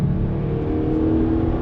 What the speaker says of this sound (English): Let's do a little acceleration test on throttle.